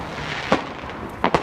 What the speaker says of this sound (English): These are crazy fireworks, man.